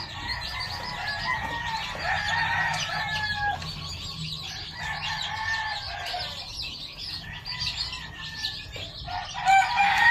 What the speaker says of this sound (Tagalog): Nandito ang ating mga bagong pisa.